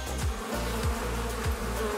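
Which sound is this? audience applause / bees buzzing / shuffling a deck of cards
bees buzzing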